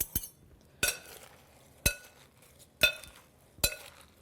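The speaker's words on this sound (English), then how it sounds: "I'm gonna give my salad a lovely toss" Salad tossed with salad tossers, giving five sharp, evenly spaced clinks about a second apart, fairly quiet with stillness between them.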